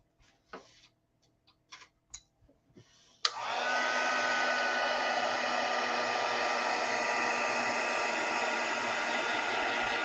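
A hair dryer dries paint on a gingerbread painting. A few soft taps and knocks come first, then the dryer switches on abruptly and keeps up a steady, loud, close whoosh to the end.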